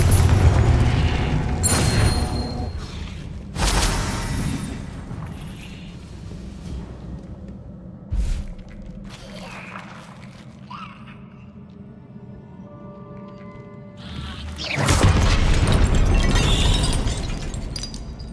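Loud spell explosions in the Hogwarts Legacy video game: a cluster of booming, shattering blasts at the start, quieter magical rumbling through the middle, then another heavy burst near the end.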